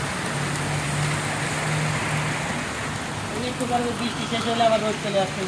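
Steady rain patters down outdoors at Marina Bay in Singapore, a dense, even hiss of drops with faint low rumbling beneath it.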